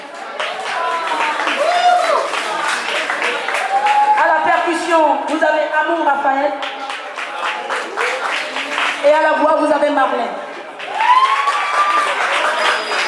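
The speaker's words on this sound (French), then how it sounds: "Qu'on applaudit, s'il vous plaît." A crowd at a concert at the Goethe-Institut keeps up applause and cheering, while an announcer speaks over the clapping to introduce the musicians.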